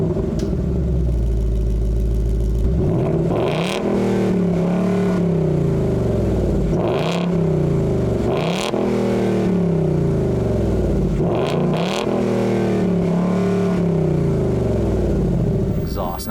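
A 2018 Ford Mustang GT V8 with the active performance exhaust, heard up close and loud, idles low, then is blipped through a series of sharp revs that rise and fall back to a rumbling idle.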